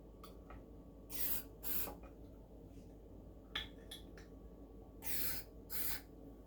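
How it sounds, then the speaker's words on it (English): Contact cleaner hisses from an aerosol can in several short, close bursts, about five or six, as it is sprayed into the pots of a lefty Tokai Les Paul guitar, with small clicks and handling noises between them. "I just spray that in there. Spray it into the opening of every pot."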